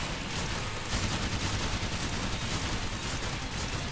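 Rapid bursts of gunfire crackle continuously in a dense, noisy mix, sounding like automatic weapons firing without pause, in the video game Sword Art Online: Fatal Bullet.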